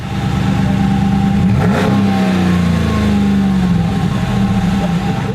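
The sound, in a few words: Ram 1500 HEMI police truck accelerating on course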